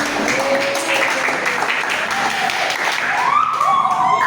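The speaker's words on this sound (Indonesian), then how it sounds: "beri tepuk tangan dulu untuk kelompok 1." Applause from a classroom for group 1 after a presentation, a continuous patter of many hands, moderately loud and even, with faint voices and a brief whistly tone rising near the end.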